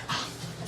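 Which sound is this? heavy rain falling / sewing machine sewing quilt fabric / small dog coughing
small dog coughing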